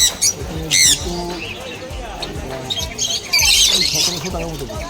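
Small caged java sparrows, including white ones, chirp and squawk in short, bright calls while a person talks close by, at a bird market.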